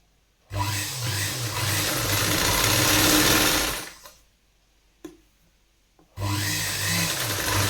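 A sewing machine stitches a katori blouse in two bursts, with a long rhythmic whirring run, a pause broken by a couple of faint clicks, then the motor starts again, loud and close.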